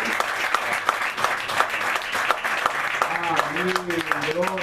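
Congregation applause at a church tabernacle dedication fills the space with steady, dense clapping, while voices and a sung or spoken tone rise over it toward the end.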